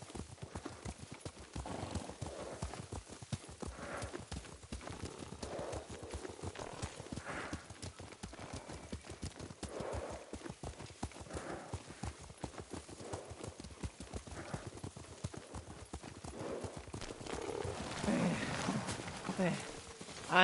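A horse gallops with a rider in the Ghost of Tsushima video game, its hooves drumming a fast, steady clip-clop rhythm that runs unbroken throughout, with voices speaking over it at times.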